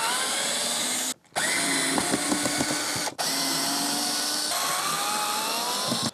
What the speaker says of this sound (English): I'm gonna use this drill here to help expedite the removal of the screws here.